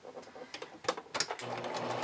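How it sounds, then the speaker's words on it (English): A sewing machine runs a wide multi-step zigzag stitch for a vintage-style bra, giving a quick, uneven mechanical whirring and ticking that steadies into a continuous hum toward the end, close and fairly quiet, with no talking. "switching my sewing machine to a multi-step zigzag stitch"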